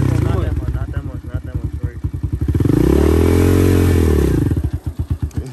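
An Apollo 125 dirt bike engine idles with a choppy, pulsing putter, then revs up into a loud, rising and falling roar as the throttle is opened. It drops back to a lumpy idle afterwards.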